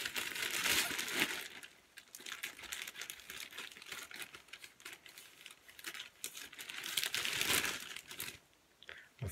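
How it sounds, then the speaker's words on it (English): Crinkling and rustling of packaging with bursts of crisp cutting and tearing, close up, in irregular clusters with brief pauses. "I'm opening with scissors here"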